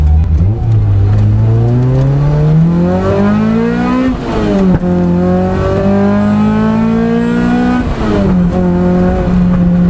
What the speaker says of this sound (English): this particular version of the Elise has the Toyota 2CZ motor, which puts out just shy of 200 horsepower